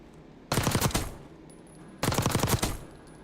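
Two loud bursts of rapid automatic gunfire from a video game shooter, each about half a second long with a quick rattling rhythm and a short pause between them, close and forceful over a faint background hum.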